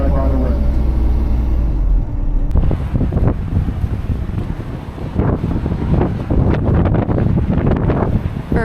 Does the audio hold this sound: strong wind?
yes